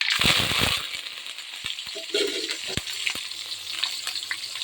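Mustard seeds, green chilli, onion and curry leaves frying in oil for tomato chitranna, a bright crackling sizzle that flares loudly at first, then settles under intermittent stirring clicks and scrapes.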